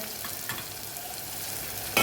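Spices, including turmeric and coriander-cumin powder, sizzle steadily in a hot pan, a constant crackling hiss with a brief louder scrape of stirring near the end.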